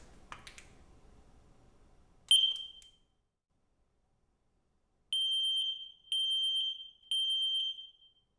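A combination smoke and carbon monoxide detector runs its test: a short sharp chirp, a pause, then three loud evenly spaced piercing beeps close by, with faint handling noise at the start.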